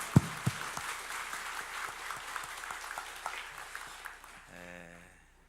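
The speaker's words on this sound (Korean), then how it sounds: "다시 아멘 하고 박수로 한번 격려하십시다" A church congregation applauds during a worship service, a dense, sustained burst of clapping from many hands that fades out toward the end, with a voice briefly speaking as it dies away.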